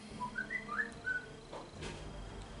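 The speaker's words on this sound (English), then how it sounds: "that's my phone whistling." A phone gives a short whistle notification, a few quick rising and falling whistled tones, faint and thin against a quiet room.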